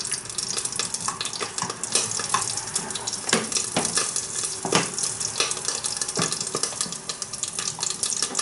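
Scrambled eggs cooking in a poor-quality saucepan back on the heat, with a soft, continuous sizzle and irregular scraping and clinking from stirring, close and fairly quiet.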